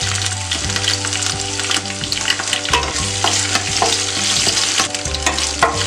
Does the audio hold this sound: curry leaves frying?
yes